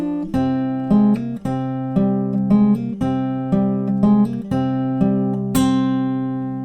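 Fingerstyle acoustic guitar plays the Game of Thrones theme verse, plucked notes over repeating low bass in a steady rhythmic pattern, clear and close, solo with no voices.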